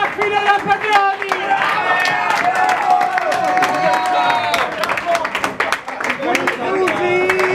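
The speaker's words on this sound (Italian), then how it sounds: "un applauso a tutti noi" A lively crowd at a festive dinner clapping steadily while loud voices shout, cheer and chant over the applause, close and busy throughout.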